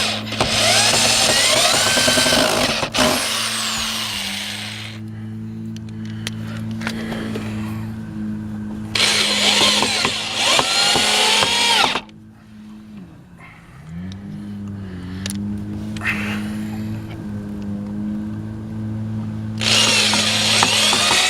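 Power drill driving screws into the wooden boards of a raised garden bed, several separate whirring bursts with the motor pitch rising and sagging under load, quiet gaps between them.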